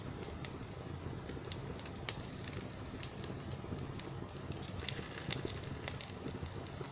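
Poha vade patties frying in a pan, a faint continuous crackle with small irregular pops and ticks throughout, quiet and close.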